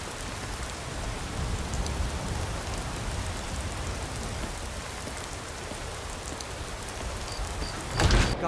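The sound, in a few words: storm rain pounding on roof tiles in video game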